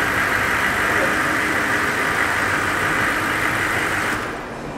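A motorhome engine idles nearby, a continuous mid-range rumble that drops off near the end as it is switched off.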